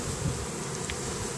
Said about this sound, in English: here's all the bees here